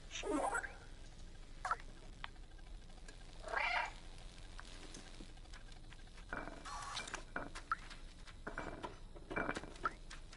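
An orange stray cat gives a few soft meows at irregular intervals, mixed with light pattering and rustling nearby, all fairly quiet and with no talking.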